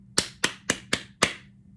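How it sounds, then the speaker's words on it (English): Five sharp hand claps in a steady, even rhythm, close and distinct against a quiet background hum, during a children's rhythm lesson. "Clap it with me."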